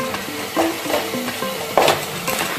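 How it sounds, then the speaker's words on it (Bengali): Onions frying lightly in a pan while making a white chicken korma, a soft continuous sizzle with occasional stirring scrapes, close and steady. "তাই হালকা করেই আমি ভাজছি"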